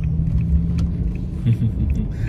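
A rare car driven hard produces a steady low engine rumble with surging bursts, close by and fairly loud, with faint voices in the background.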